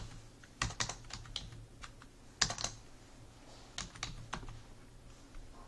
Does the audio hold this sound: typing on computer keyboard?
yes